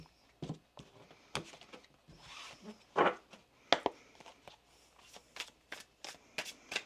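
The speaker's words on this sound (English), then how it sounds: "One more shuffle here, please" A deck of tarot cards being shuffled in a series of quick riffles and soft slaps, close by, with papery flutters between bursts.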